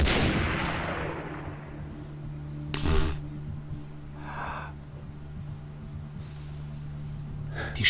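Gunfire in the video game Far Cry 3, with a sharp loud shot near the start and a fainter burst a little later over a low droning game ambience.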